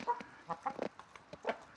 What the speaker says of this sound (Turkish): Yine horoz.